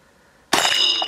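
A bullet striking a thick chopping cleaver, which shatters with a sudden loud metallic clang and a bright ringing clatter of fragments after a quiet lead-in.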